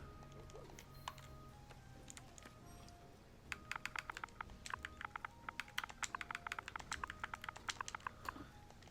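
Rapid clicky typing on a computer keyboard in quick irregular bursts, close and crisp over a quiet background hum, starting a few seconds in and continuing to the end.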